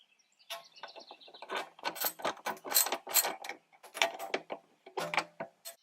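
A ratchet backs out 10 mm bolts from the dashboard of a 2019–2022 Toyota RAV4, giving quick irregular clicking runs close up, with short pauses between bursts.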